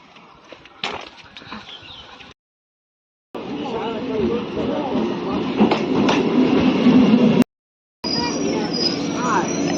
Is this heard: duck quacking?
no